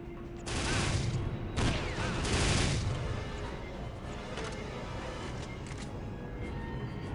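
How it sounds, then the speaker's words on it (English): Rocket launcher in Aliens Versus Predator 2 firing with loud bursty blasts and booming explosions, a dense rumble of weapon fire that swells and then settles into a sustained noisy roar. "Rocket launcher."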